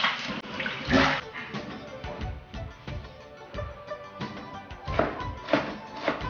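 Home sun-dried vegetables, soaked overnight, being rinsed and rubbed clean in a basin of water, giving close, continuous sloshing and splashing with a few stronger surges.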